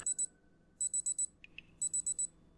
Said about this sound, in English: I'm just going to ignore that beeping